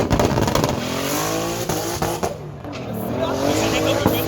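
A race car at a drag-racing meet at Vernamfield passes close and loud, its revving engine sweeping in pitch as it goes by, with crowd voices and commentary mixed in.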